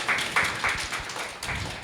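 Audience at a corporate seminar clapping for an insurance company, a short, fairly quiet burst of scattered hand claps heard in a hall without talk.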